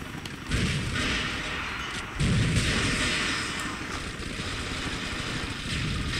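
Gunfire in the shooter game Rainbow Six Vegas 2, two sharp reports a couple of seconds apart over a continuous noisy game bed, moderately loud and close.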